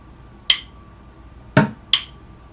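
A bucket drum measure played in quarter notes with stick clicks: three sharp, close percussive hits, the last two in quick succession, standing alone against near silence.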